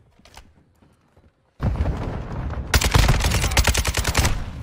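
Gunfire in a video game crashes in suddenly after near silence, then becomes a loud, rapid run of shots with a steady rhythm that carries on to the end.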